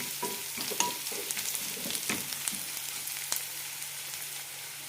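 Onions with chopped tomato and ginger-garlic paste sauté in a pan for egg kurma, giving a steady close sizzle with repeated scraping stir strokes and no voices.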